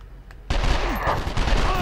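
Gunfire in the PlayStation 2 game 24: The Game, a loud sudden burst of rapid shots that holds steady and close for over a second after a quieter lead-in, with faint game voice sounds underneath.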